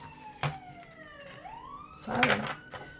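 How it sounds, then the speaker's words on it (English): A siren wails in the distance, its tone sliding down and then rising again, with a few sharp knocks and rustling close by. "siren of some sort"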